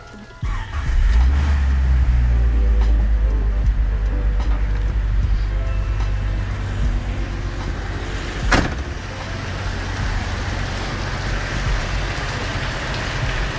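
A car engine turns over and settles into a steady, loud idle during a cooling system flush, running alone with a brief sharp clatter partway through.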